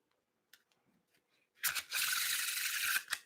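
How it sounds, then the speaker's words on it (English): Playing cards shuffled one-handed, a few faint taps and clicks, then a dense riffling flutter lasting just over a second, close and fairly loud, ending with a couple of soft snaps. "I did the one-handed shuffle."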